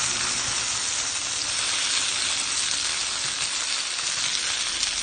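Food stir-frying in a pan, with green beans and steak, gives a steady, close, loud sizzle of hissing oil that runs unbroken throughout with no talking.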